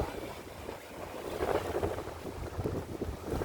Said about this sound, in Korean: 아 바람 많이 붑니다.